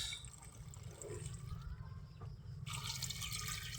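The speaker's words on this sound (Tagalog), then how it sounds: "Lagyan na natin ng konti lang tubig" Water poured into a cooking pot over chicken, carrots and potatoes for chicken menudo, a close trickling and splashing pour with faint drips, alone without talk.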